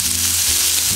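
Scallops sizzling loudly in a hot pan with the heat just switched off, a dense close hiss with a low background hum and no speech.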